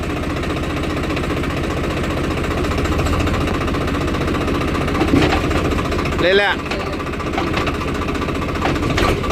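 A motorbike engine runs steadily with a harsh, rattling knock while the rider works through the gears, heard up close under continuous talking.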